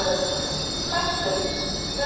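An LNER Azuma unit 801-221 departs York on an Edinburgh Waverley to London King's Cross service, giving a steady mechanical hum with faint wheel squeal and rail noise, fairly close and continuous.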